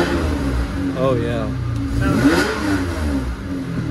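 A cold Maybach 62 engine revved gently, its mid-pitched hum rising and falling in a couple of restrained swells under a steady idle, close by, with a brief spoken remark over it.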